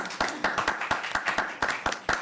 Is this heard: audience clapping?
yes